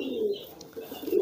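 A pigeon coos softly up close, giving a short, low, throaty call that rises and falls briefly and is heard on its own.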